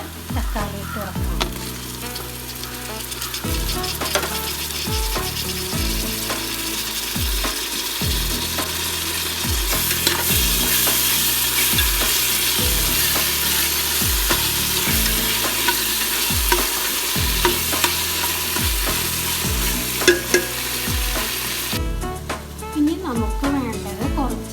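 Sliced onions and tomato frying in a pan for Kerala beef perattu, loud steady sizzle broken by regular scraping stirs of a spoon, with a person talking over it throughout.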